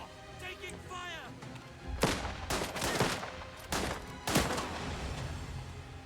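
Video game gunfire erupts in loud bursts of several sharp shots after a quiet opening, with a voice calling out between them.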